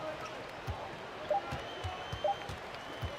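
A basketball arena crowd in NBA 2K21 keeps up a steady roar of cheering and applause, with a few ball bounces and a faint voice underneath.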